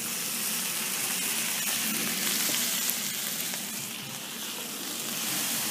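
Garlic and Worcestershire sauce sizzle in a pan for jambalaya, giving a steady, close hiss of frying that holds for the whole stretch with no talk over it.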